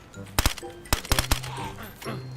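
Gunfire in the survival video game DayZ: a quick double shot, then a single crack and a rapid burst of three, sharp and close, with a voice talking faintly in between.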